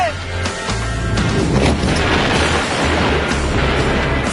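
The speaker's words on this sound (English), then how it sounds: "We have explosion!" A porta potty blows up in an explosion test, a loud sustained blast and rumbling roar that fills the whole moment with dense, heavy noise and scattered crackles.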